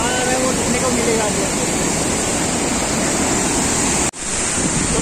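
Rushing water and wind at Chinma Dare waterfall in Meghalaya, a loud, steady broadband roar filling the scene, briefly cut by a short dropout near the end.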